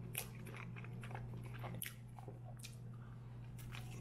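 Someone eats a freshly made waffle from a Dash waffle maker, close-up biting and soft squishy chewing in a few bursts over a steady low background hum.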